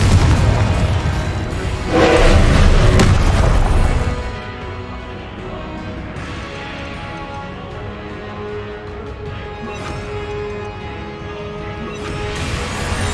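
Confringo fire-blast spell explosions in Hogwarts Legacy: a loud, booming burst with heavy low rumble in the first few seconds, then fading into quieter crackling and ambient game sounds.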